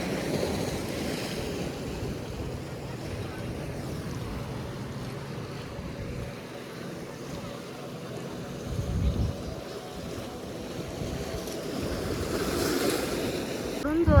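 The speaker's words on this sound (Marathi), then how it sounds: "जोरात लाट येते" Sea waves wash steadily onto Khavne beach on the Konkan coast, a broad continuous surf roar with wind noise on the microphone and a louder surge of water near the end.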